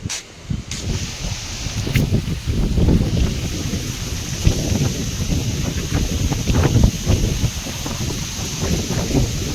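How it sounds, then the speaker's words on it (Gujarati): Strong gusts of wind roar and buffet the microphone, rising and falling in a rough, continuous rush. "પવન બહુ હે"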